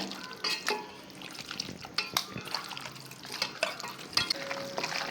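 Chicken pieces being mixed in a bowl make wet squelching and sloshing, with scattered light clinks and taps at irregular intervals, fairly quiet and close.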